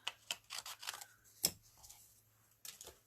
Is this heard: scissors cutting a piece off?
yes